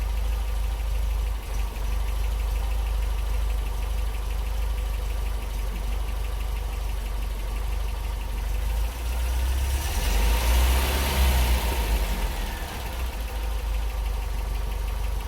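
An MG BGT engine idles steadily with a low, even rumble while its carburettors are balanced and the mixture adjusted, swelling briefly as the revs rise before settling back to idle.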